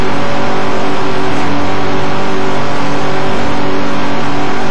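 Nissan Skyline GT-R with a 2.6-liter inline-six in the Midnight Club 3 racing game, a steady loud engine drone held near and constant throughout, with no speech.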